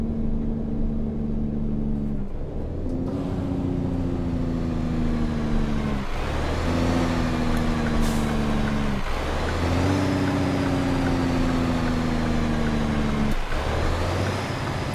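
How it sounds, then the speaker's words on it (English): An engine brake on a Michelin-liveried Mack truck in American Truck Simulator, driving in Texas, gives repeated loud droning blats with a falling pitch. Each run is broken by short gaps at gear shifts, about five cycles in steady rhythm. "Let's use the engine brake in this thing."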